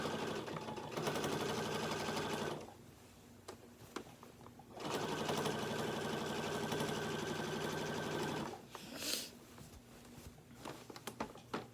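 A sewing machine quilts through a quilt sandwich of top, batting and backing, running in two long steady bursts with a pause between, loud and close, followed by brief handling noises.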